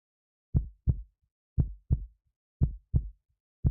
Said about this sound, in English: Now you guys can hear my heartbeat.